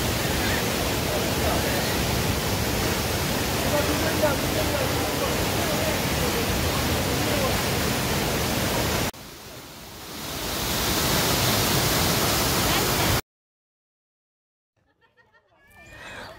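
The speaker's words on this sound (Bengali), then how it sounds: "বড় বড় পাথর পাশ কাটিয়ে বয়ে চলে যাওয়া এই জলের গতি" Fast water rushing past large rocks, a steady broadband roar that dips quieter for a few seconds, swells back up, then cuts off into near silence.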